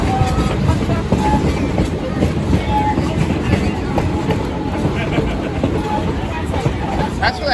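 A train rolls along the Catskill Mountain Railroad past open fields, with a loud continuous rumble and rhythmic clacking of wheels on rail joints, heard close from on board amid faint background chatter.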